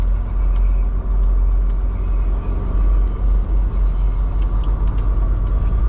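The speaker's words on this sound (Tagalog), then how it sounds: "Daming truck eh. Sunod-sunod." Heavy trucks roll steadily across the busy Ambassador Bridge, a loud continuous low rumble of engines and tires heard from inside a truck cab, one after another with no break.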